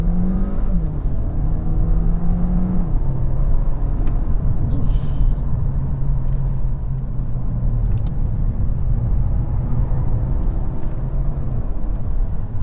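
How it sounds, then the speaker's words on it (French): An Audi A3 e-tron accelerates, with a low, steady drivetrain hum and a rising, shifting whine heard from inside the car, loud and continuous over road rumble. "Je peux même faire une petite accélération."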